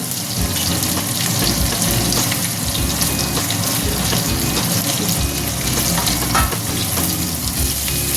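Garlic and sliced onions fry in a pan for chilli chicken, a loud, dense crackling sizzle with occasional stirring scrapes, close and steady throughout without voices.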